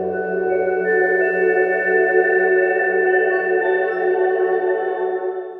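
An aged marimba synth patch played on a Native Instruments Kontrol MK3 keyboard, run through a filter, bit reduction and added reverb, sustains as a steady tonal chord for several seconds and stays loud and alone.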